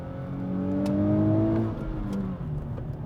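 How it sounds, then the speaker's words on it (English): A 2023 Nissan Z with a manual transmission downshifts from fifth through fourth to third, the engine blipping and rising in pitch on each automatic rev-matched downshift, loud and close from inside the car. "So I'm cruising in 5th right now, clutch in 4th, 3rd, automatic rev match downshifts."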